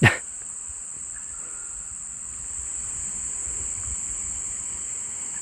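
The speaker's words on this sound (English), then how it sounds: "You have to excuse the cicadas, they've just fired up for the evening." Cicadas drone in a steady, loud high-pitched buzz at an evening hammock campsite in the Australian bush, continuous throughout after a brief knock at the start.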